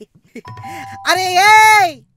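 A doorbell chime rings indoors during a comedy scene, a sustained tone sounding briefly while someone talks over it and his voice rises loudly.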